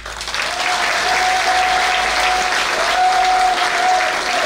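A church congregation applauds together in dense, steady, loud clapping that fills the whole stretch without pause, with a faint sustained tone running beneath.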